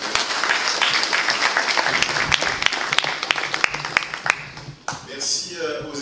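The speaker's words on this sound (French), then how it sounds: "son président, M. Jacques Ambrosio, que je vous invite à applaudir pour le travail qui est fait" Audience applause at a public gathering with a town mayor and local residents, a burst of dense clapping for about four seconds that thins into scattered claps, with voices rising near the end.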